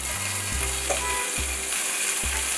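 Small cubes of paneer fry in hot oil with a steady, even sizzle that runs throughout, joined by a few soft scraping knocks from a utensil in the pan.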